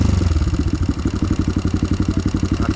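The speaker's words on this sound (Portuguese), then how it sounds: "O moto tá apagando." A motocross motorcycle with a wet spark plug idles in a rough, loping rhythm, its engine pulsing unevenly and faltering as it threatens to stall, close and fairly loud throughout.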